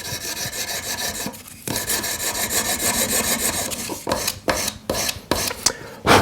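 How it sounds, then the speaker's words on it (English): A round buff stick rubs against a silver claw setting in quick, rasping back-and-forth strokes, close and steady, with brief pauses and a few choppier strokes toward the end. "I'm going to use my round buff stick perhaps for this."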